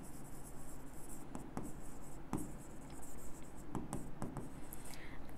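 Chalk or marker writes on a board during an accounting lesson on partnership interest calculations. It makes faint, irregular scratches and taps in short strokes over a quiet room hum.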